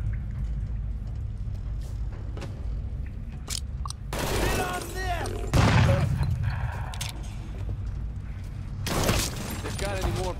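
Gunfire in Mafia 3 comes as scattered sharp shots, then a dense roaring burst, a pause, and another loud volley, with mechanical clatter and voices around it.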